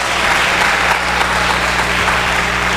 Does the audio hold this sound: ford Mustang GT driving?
no